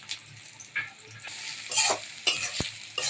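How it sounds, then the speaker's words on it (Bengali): Onions and spices fry in a pan for country chicken pulao, a soft sizzle under repeated scraping stirs and utensil clinks, close and fairly quiet, with no talking. "অল্প একটু পেঁয়াজটাকে ভাজা হবে, হালকা লাল লাল হলে তারপরে মশলা দেওয়া হবে"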